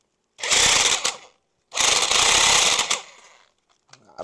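Clutch basket on a 1972 Harley-Davidson XLCH Ironhead primary drive spinning freely, giving two loud, close mechanical whirring bursts with a ratcheting rattle, each about a second long, then a quieter tail with a few faint clicks.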